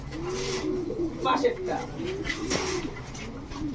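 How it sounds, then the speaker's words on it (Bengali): A pair of Pakistani Kaldom pigeons coo softly and repeatedly at close range over steady background noise. "এখন একজোড়া পাকিস্তানি কালদম কবুতর দেখাবো"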